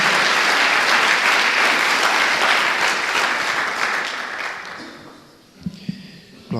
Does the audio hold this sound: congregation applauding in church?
yes